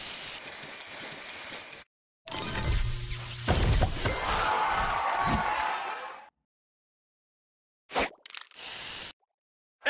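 Spray booster effect from the Match Masters mobile puzzle game, a loud hissing, splashing burst lasting several seconds with crackly shattering texture, followed by silence and a couple of short sharp effect hits near the end.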